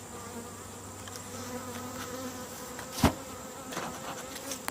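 Honeybees drone in a dense, continuous buzz from an opened hive holding tens of thousands of bees, close and steady, with a sharp knock partway through.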